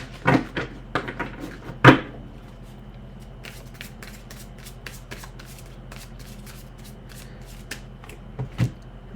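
A deck of tarot cards being shuffled by hand at close range, with riffling bursts and soft slaps scattered over a steady low background hum.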